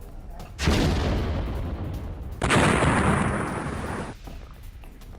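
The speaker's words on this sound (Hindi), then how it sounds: "इसी टैंक के जरिए यूक्रेन के कई ठिकानों को उड़ा दिया गया है" A Russian T-80BV tank fires two heavy main-gun blasts in a combat zone, each a loud, booming report with a long rolling decay, the second coming about two seconds after the first.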